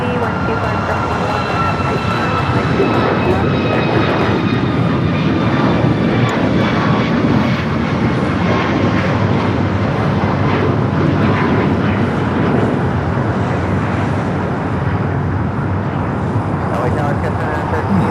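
A Kalitta Air jet lines up on runway 25 Left at LAX, its engines giving a loud, steady whining roar throughout, with people talking over it.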